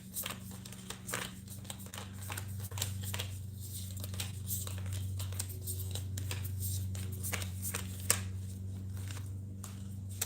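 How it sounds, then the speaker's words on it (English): Steady crisp riffling and soft slapping of tarot cards being shuffled, continuous and close, over a low constant hum. "you get a fresh shuffle there"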